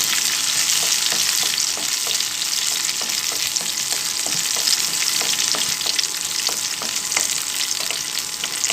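Cashews and raisins fry in oil in a pan, giving a loud, continuous sizzle with frequent small clicks and taps from stirring throughout.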